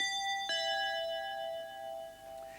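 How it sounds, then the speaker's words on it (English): A doorbell chimes once at the start, its bright ringing tones ringing out and slowly fading over a quiet room, with a faint second tap near the end. "as the doorbell rang"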